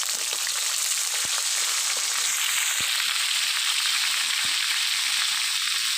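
Pointed gourd dusted with turmeric and salt sizzles in a pan, a steady close crackling hiss that fills the whole span, broken by a few soft clicks.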